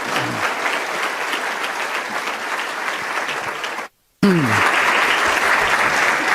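A crowd claps steadily to welcome Dr. Armando Alducin before his sermon, the dense applause breaking off briefly near the end, then resuming just as loud with a voice audible underneath.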